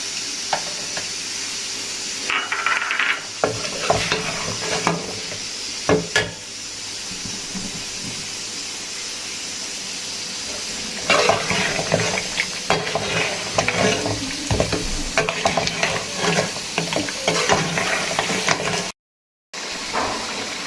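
Mutton karahi fries in ghee over a low flame, a steady close sizzle and hiss with occasional stirring scrapes and clatters, briefly dropping out near the end.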